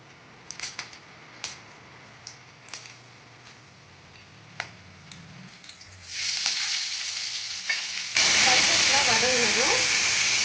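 Spices dropped into hot oil in a pan for mutton lungs fry, starting with scattered ticks and light crackles before breaking into a loud, dense, hissing sizzle that holds steady to the end.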